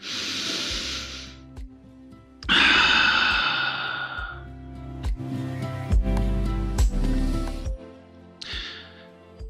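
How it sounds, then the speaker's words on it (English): Slow deep breaths close to the microphone, a long airy inhale and then a louder drawn-out exhale with a sighing tone, followed by a shorter final breath, with no talk. "Let's take a big deep breath."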